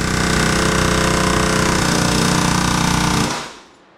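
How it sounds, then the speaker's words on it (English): A loud, rapid pneumatic air hammer with a chisel cuts off a bolt during an El Camino engine swap, rattling nonstop at close range for about three seconds, then winding down and stopping. "get you a big old air hammer with a chisel or a couple other things"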